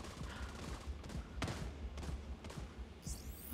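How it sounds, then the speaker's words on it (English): Gunfire from a sniper shotgun in The Division 2, with several sharp shots cracking out at irregular intervals over a busy background of combat noise. "He's got a sniper shotgun."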